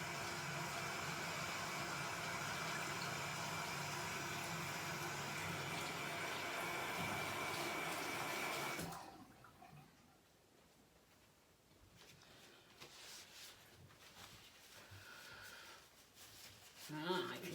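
A broad, steady hiss of water spraying paint off an open-cup poured painting, loud and unbroken for about nine seconds, then cutting off abruptly to faint clatter and rustling.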